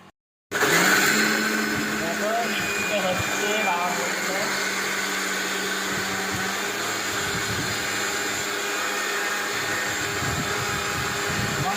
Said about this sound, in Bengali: আর এবার একটুখানি এটাকে মিক্সিতে ঘুরিয়ে নেব